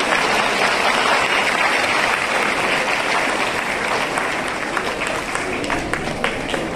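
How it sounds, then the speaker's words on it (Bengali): Loud, sustained applause from an audience at a felicitation ceremony for secondary and higher secondary exam toppers, a dense steady wave of clapping that fades slightly toward the end, with no talk over it. "একটা জোরে হাততালি"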